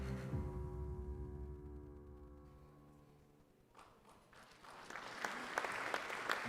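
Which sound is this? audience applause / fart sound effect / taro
audience applause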